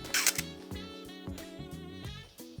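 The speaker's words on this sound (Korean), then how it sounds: "지금 또 충전하는 소리 들리거든요" A Minolta Hi-Matic film camera's flash charges with a rising electronic whine and rapid ticking pulses. A brief click comes near the start, and the whine runs close and clear with no talking.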